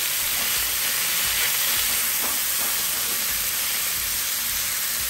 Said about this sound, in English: We just want to sear it. Just sear it a little bit before we put it in the pot.